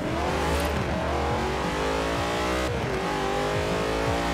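An Ascari car in Forza Horizon 4 revving hard, the engine climbing through gears with rising pitch sweeps and a shift, loud and steady throughout with no talking.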